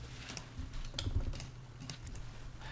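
Quick, irregular key clicks from a computer keyboard as VEX code is entered in Houdini, close and moderately soft with a low background hum, and no speech.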